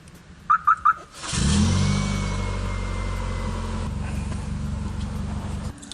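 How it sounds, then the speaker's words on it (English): A Mitsubishi Lancer fitted with a remote start and alarm system gives three quick chirps, then its engine cranks and catches when started with the key, settling into a loud steady idle that drops slightly before cutting off. "Start the car with the key."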